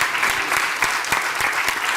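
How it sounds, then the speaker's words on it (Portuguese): A studio audience on a Portuguese television programme applauds steadily, loud dense clapping from many hands without any speech. "Um grande aplauso"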